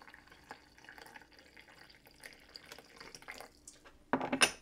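Water poured onto tea leaves sitting in a filter: a quiet stretch of faint drips, then a short, close splashing pour near the end.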